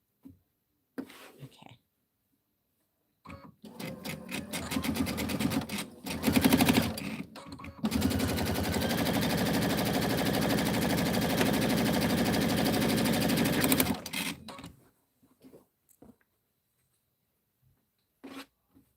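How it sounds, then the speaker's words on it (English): A sewing machine runs in one long steady burst of stitching through fabric for a scrappy bench pillow back, close and loud, with brief clicks and handling noises before and after. "I'm just going to sew to this line"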